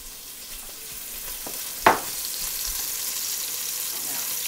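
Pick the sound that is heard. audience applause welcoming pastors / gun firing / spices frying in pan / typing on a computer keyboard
spices frying in pan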